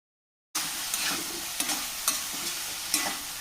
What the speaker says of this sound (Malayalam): മൂടി തുറന്ന് നല്ല പോലെ ഇളക്കി കൊടുക്കുക